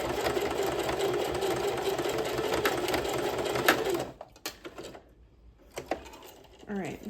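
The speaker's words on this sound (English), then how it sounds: "I'm going to sew close to the raw edge here, back stitch good at the beginning." A sewing machine stitches close to the raw edge of a pair of heritage overalls, whirring steadily at close range for about four seconds, then stops, followed by a few soft clicks and fabric handling.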